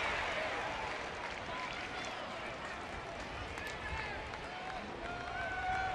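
Crowd at a Texas Rangers baseball game in the home ballpark roars steadily as the team nears a sweep, a broad, sustained wash of cheering and noise with a few whistles rising over it.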